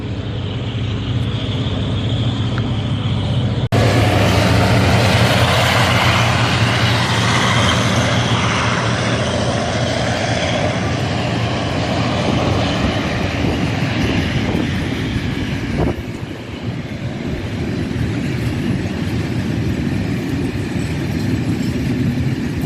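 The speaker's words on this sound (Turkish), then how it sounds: "Tren çok ses yapıyor." A loud, continuous rumble of a passing train roars steadily throughout, with a sudden surge partway as it draws closer, and no voices.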